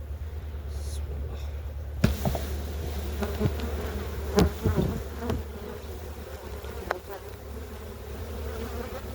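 Honeybees buzz at an opened hive in a steady, dense drone with a few close knocks and taps over it, no voices.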